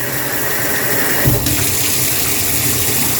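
Water runs steadily from a BWE kitchen faucet set midway between hot and cold, a loud continuous broadband rush with a brief thump partway through.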